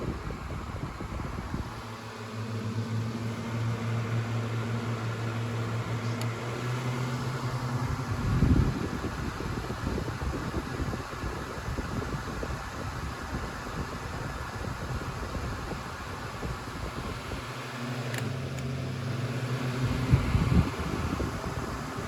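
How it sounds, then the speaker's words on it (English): A Lakewood Kool Operator Jr. and a Honeywell Super Turbo electric fan run with a steady whirring drone and low motor hum, with speed changes near the start and again toward the end. "medium speed on the black fan's already faster than high speed on the white fan"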